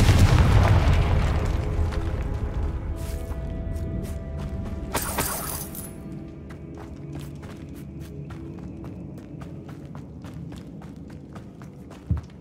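Loud burst of a Confringo fire spell going off in Hogwarts Legacy, opening with a heavy booming blast and rumbling debris inside a tomb, then fading to a low ambient hum broken by scattered small crackles and one sharp late hit.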